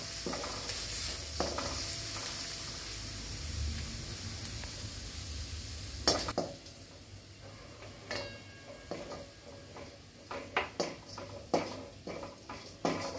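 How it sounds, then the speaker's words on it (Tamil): Garlic stirred and roasting in a pan, a steady sizzle with scattered scraping and tapping of a utensil against the pan, close and moderately loud, no talk. "கருகு விட்டுறாமல் பொறுமையாக கிண்டி கிழக்க வறுத்து எடுத்துருங்க"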